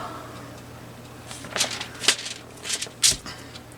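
A bunch of saved paper envelopes is handled up close, giving a few soft, brief rustles and flicks, quiet against a low background hum.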